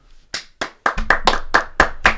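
Applause from a few people on a casual drinking podcast: about nine sharp, close hand claps in a loose, quickening rhythm over roughly two seconds, with no talk.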